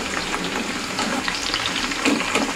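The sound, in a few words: drumstick pieces deep frying in oil, being stirred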